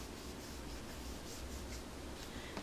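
A blending tool rubs ink onto paper in a continuous close, scratchy brushing sound with small rhythmic strokes, fairly quiet and alone.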